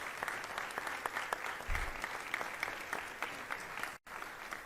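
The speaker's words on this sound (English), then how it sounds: "Let's give these folks a round of applause for volunteering for our community." Applause at a regular city council meeting for community volunteers. The clapping is moderate and fairly sparse, with individual claps audible in the room, and it cuts off briefly near the end.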